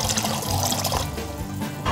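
Water and olive oil draining down a sink drain during home olive oil making, a steady gurgling rush of liquid that runs loud and continuous for the whole stretch with no talk.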